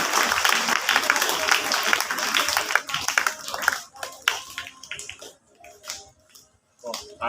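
An audience claps for a volunteer in a talk on communication skills, starting as a dense wash of applause that thins into scattered claps, with voices audible underneath.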